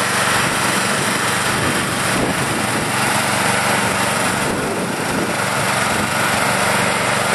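The small engine of a wood gas battery charger runs steadily during break-in, held below full throttle, a loud continuous high buzzing drone close by with no pauses.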